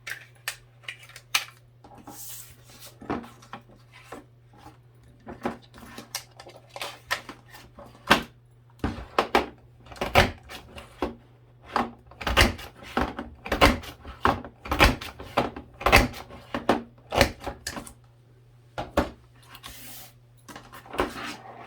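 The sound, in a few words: cutting a mat with a border maker cartridge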